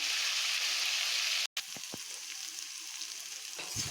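Sliced pointed gourd sizzles steadily in a hot pan with a splash of water, a loud broadband hiss that breaks off briefly, then resumes with a few scraping stirs and clicks of the spatula.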